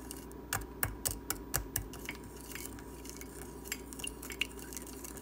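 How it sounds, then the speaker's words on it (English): A chopstick stirs and mashes cocktail ingredients, making a string of faint, sharp clicks and taps, clustered at first and then sparser, against quiet background hiss. "And just gently stir it and just mash it up as much as you can."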